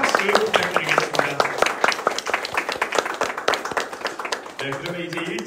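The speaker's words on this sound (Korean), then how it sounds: "다시 한번 한국국 대사관님께 큰 박수 부탁드리겠습니다." Loud applause from an audience at a Korean lecture and pilgrimage gathering, dense rapid clapping throughout with a voice speaking over it toward the end.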